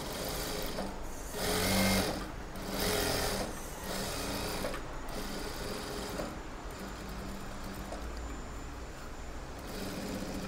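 Sewing machine running steadily while stitching a silk blouse, a continuous mechanical whir with a couple of louder bursts near the start, close and alone with no talking.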